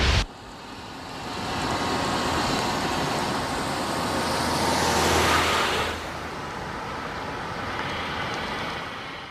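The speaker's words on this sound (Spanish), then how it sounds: "Este coche es un híbrido que quema gasolina normal o, apretando un botón," A hybrid car burning ordinary petrol or, at the press of a button, hydrogen runs with a steady broadband engine and road rush that swells for several seconds and then eases to a constant hum.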